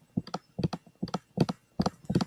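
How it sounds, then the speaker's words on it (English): Clicking on a computer, heard as close, crisp clicks in quick bursts of two or three, repeated six times over a couple of seconds with short pauses between. "You hear me clicking it?"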